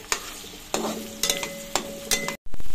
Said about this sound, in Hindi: प्याज अच्छे से सोते हो चुके हुए हैं